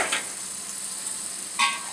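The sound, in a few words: butter melting and sizzling in a pot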